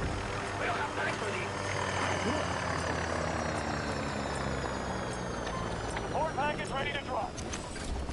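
Helicopter in the video game Battlefield 2042, a loud, steady rotor and engine drone that fills the whole stretch, with players talking over it.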